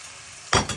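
Fish dropped into a hot pan of browned onions with green chilies, giving a sudden loud sizzling burst that fades and flares again briefly, close and without voices.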